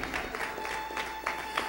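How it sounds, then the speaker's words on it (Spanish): A church congregation claps for the Lord during a Spanish-language sermon, soft rhythmic handclaps in a roomy space over a steady electrical hum. "Dale un aplauso al Señor con todo tu corazón"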